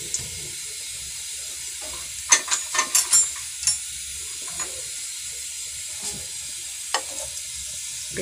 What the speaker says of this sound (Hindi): प्याज डाल दिए, इसको हल्की फ्राई करेंगे।